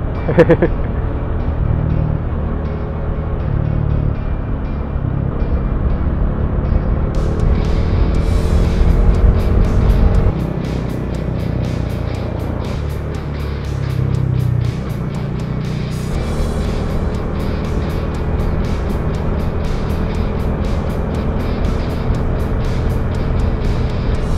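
City road traffic in the Ayala area, heard while riding a motorcycle toward a tunnel and stoplight: a steady broadband rumble of engines and passing vehicles with wind noise, swelling louder for a few seconds midway.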